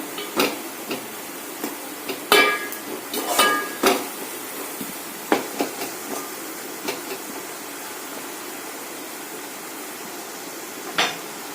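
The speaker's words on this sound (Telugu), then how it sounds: "సేమ్ ఎగ్స్ని పగలబెట్టుకొని వేసుకోవాలి" Eggs cracked one after another into a pan for egg bhurji: a scattering of sharp, brief clicks and taps of shell against metal, clustered early on and then spaced out, fairly close and quiet, with no talking.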